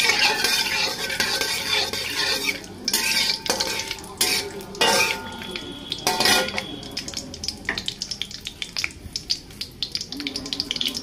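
A utensil stirs and scrapes through a pan as cardamom, cinnamon and bay leaves fry for a spicy mutton bhuna. Metallic clatters and knocks come in irregular bursts over a faint sizzle.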